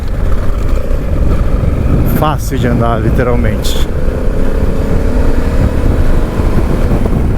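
Honda Africa Twin 1100 motorcycle riding on dirt in gravel mode, its engine a steady loud drone through the whole stretch with rough wind and ground noise, a voice talking over it partway through.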